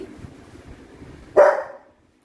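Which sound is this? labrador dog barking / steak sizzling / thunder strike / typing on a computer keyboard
labrador dog barking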